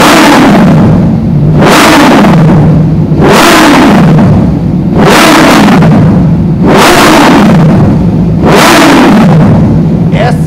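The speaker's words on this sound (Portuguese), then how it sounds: "se liga só o ronco dessa moto" A Suzuki GSX-S motorcycle revs hard five times in a row, each throttle blip rising into a loud, raspy roar and then falling back to idle. The sound is very close and dominant.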